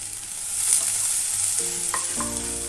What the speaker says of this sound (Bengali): এখন এই যে অলিভ অয়েল তেলে একটু নেড়ে নিয়েছি